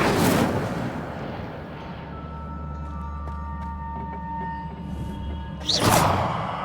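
Incendio fire spell cast in Hogwarts Legacy, a loud fiery whoosh at the start, a low rumbling hum in between, and another sharp burst near the end.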